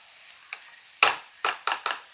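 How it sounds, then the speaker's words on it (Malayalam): A few scattered scraping stirs of green tomato and dried shrimp thoran in a pan, five or six short soft strokes with brief gaps between them. "നന്നായിട്ടൊന്ന് ഇളക്കണം കേട്ടോ"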